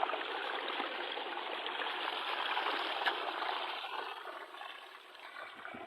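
Steady broadband rush of water flowing in a stream on a farm while people wash their feet, continuous and fairly close with no talk.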